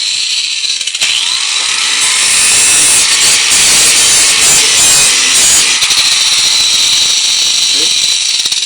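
A power grinder screams continuously as it grinds the points off metal screws, loud and close from the first second with a harsh, steady high-pitched rasp.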